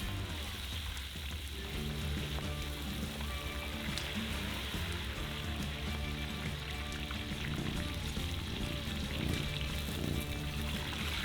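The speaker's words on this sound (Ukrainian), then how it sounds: "І занурюємо їх у гарячу олію. Смажимо 3 хвилини до утворення красивої золотавої скринки." Food deep frying in hot oil for about three minutes gives a steady, dense sizzle and crackle that runs evenly throughout with no voices.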